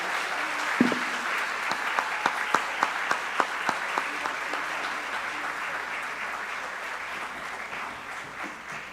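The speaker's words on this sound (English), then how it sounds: "Let's give all of our tenure recipients a round of applause." Audience applause for tenure recipients at a school district celebration, a steady, moderately distant wash of clapping with a few louder individual claps standing out, gradually thinning toward the end.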